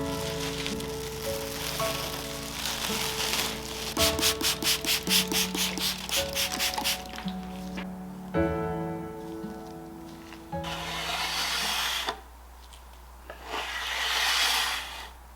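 A teak table top being scrubbed with surface cleanser, rhythmic back-and-forth rubbing strokes in quick bursts, close and fairly loud, with pauses between passes and no talk.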